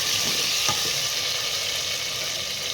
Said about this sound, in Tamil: தக்காளியும் சேர்த்து நல்லா வதக்குங்க.